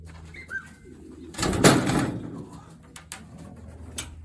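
Soft coos from racing pigeon hens sound in a quiet space, followed by a burst of fluttering wings and shuffling.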